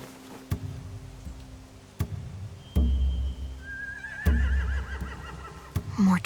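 A horse whinnies in the distance, a wavering high call near the end, over low ambient rumble and occasional sharp knocks.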